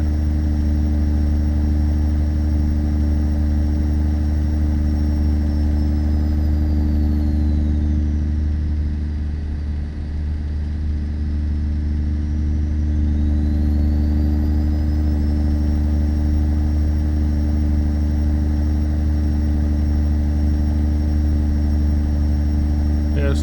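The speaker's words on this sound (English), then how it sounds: "Must be a turbo whine." A steady truck engine drone with a high turbo whine that dips and rises again as the engine revs, continuous and loud throughout, in the video game American Truck Simulator.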